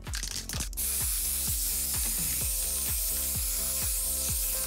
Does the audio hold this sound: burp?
no